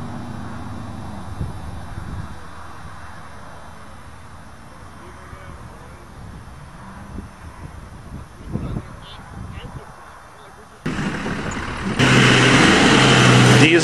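A well-worn Dodge diesel truck with almost 300,000 miles does donuts. Its engine rumbles at a distance under people talking, then surges into a loud, close roar at the end.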